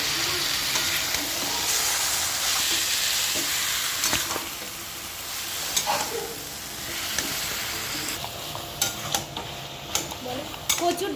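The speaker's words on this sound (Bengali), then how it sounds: "এখন এটা ফোড়ন দিয়ে মুগের ডাল ভেজে করছি।" Moong dal fries in a pan with a spice tempering, giving a continuous close sizzle. A utensil stirs and scrapes against the pan in scattered clicks and clinks, and no one talks.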